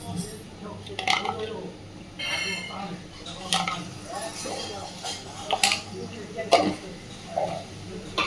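A utensil mixes chicken keema with hot chilli powder in a bowl for marinating, with soft scraping and a few scattered clinks against the dish and a voice speaking quietly underneath.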